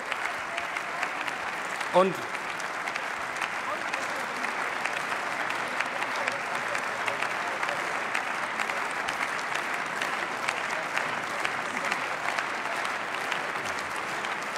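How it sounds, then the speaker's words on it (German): Prolonged, steady applause from the coalition factions fills a parliament chamber, with one brief spoken word near the start, then unbroken clapping that carries on evenly throughout. "wir nehmen nicht enden wollenden Beifall der Koalitionsfraktionen zu Protokoll"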